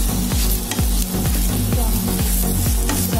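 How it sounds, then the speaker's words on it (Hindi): Layered onions frying in oil in a kadhai for bhindi do pyaza, a dense close sizzle with a rhythmic scraping stir repeating about every half second, loud, no talk. "इसी कढ़ाई में हम लेयर वाली प्याज को फ्राई करेंगे"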